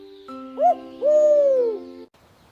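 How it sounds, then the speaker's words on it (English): An owl hoots twice, a short call followed by a longer drawn-out hoot, clear and close over a steady low hum. "Owl. Hoot."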